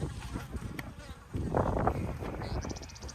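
Honey bees buzz close by around their hives, a dense, wavering drone that swells louder midway through the short stretch.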